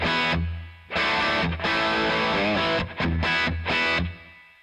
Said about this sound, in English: You can hear the reverb there,